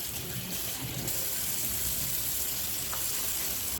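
Water rushes steadily from a tap as raw pork skin is rinsed, a continuous gushing wash without talk.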